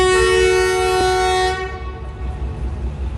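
A diesel locomotive's horn blasts loud and sustained inside a Lahore railway engine shed, cutting off after about a second and a half to leave the engine's low rumble and shed noise.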